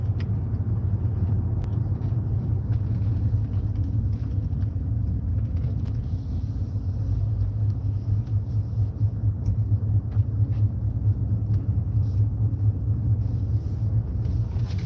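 Interior drone of a car on the road, a constant low rumble of engine and tyre noise, steady and fairly loud for the whole stretch with no talk.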